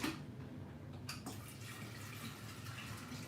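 A kitchen tap runs water to make coffee, giving a soft, steady hiss and splash throughout at low level, with a faint clunk near the start.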